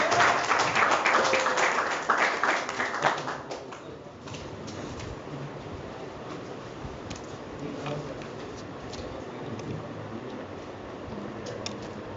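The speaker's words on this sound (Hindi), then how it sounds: "सबसे पहले अध्यक्ष महोदय जी फूलमाला जोरदार तालियों के" Applause at an oath ceremony for the Kushwaha Foundation, with a burst of dense clapping for the first few seconds that then fades to a low, scattered room murmur.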